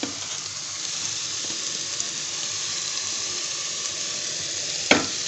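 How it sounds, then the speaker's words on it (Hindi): Cabbage fries in a pan as filling for chicken bread, giving a steady, even sizzle with a brief clatter near the end. "अच्छी तरह से इनको हम फ्राई करेंगे"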